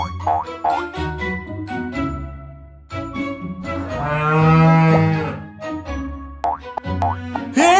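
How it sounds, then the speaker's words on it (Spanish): A cow moos in a long, loud, drawn-out call, with playful cartoonish boings and plops before and after it, and no speech. "¡Es una vaca!"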